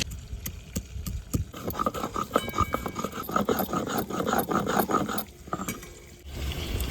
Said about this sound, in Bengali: আদাটা বেটে নেব